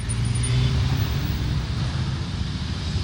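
Road traffic of mostly electric cars at a city intersection at night, waiting at a red light, heard as a steady broadband hum and hiss with a soft tonal whine near the start.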